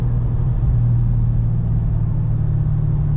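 Dodge Hellcat pulling hard on the road, its deep, steady engine drone and rumble holding continuously at close range with no voices over it.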